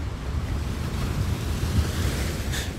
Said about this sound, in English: The sound coastal waves make when they lap against rock.